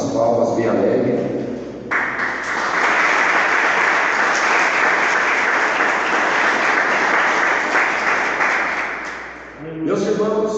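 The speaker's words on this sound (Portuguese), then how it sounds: "Assentai-vos e louvai a Cristo com as palmas bem alegres" A church congregation claps joyfully in praise during a Pentecostal worship service. Dense, steady applause swells after speech and fills the room for several seconds, then fades as talking resumes.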